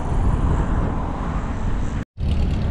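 A helicopter on a panoramic tour flight over Arraial do Cabo, Brazil, gives a loud, steady engine and rotor drone that briefly cuts out near the end.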